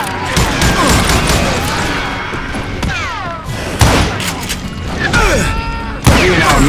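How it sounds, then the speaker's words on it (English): Gunfire in the Call of Juarez: Gunslinger video game at a camp outside Parachute, Colorado. Loud, close shots and impacts crack and thud in repeated bursts, mixed with game noise and shouting voices. "Shoot now! We're under fire!"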